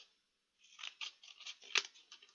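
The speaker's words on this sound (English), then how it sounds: "You squash your toilet roll. Get scissors." Scissors snip repeatedly through a squashed cardboard toilet roll, cutting it into small strips, with a quick series of close, crisp cuts and one louder snap.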